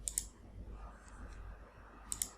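Two pairs of sharp computer mouse clicks, one pair at the start and another near the end, fairly close and crisp over a faint low background hum.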